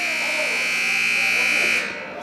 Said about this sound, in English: Here we have a buzzer.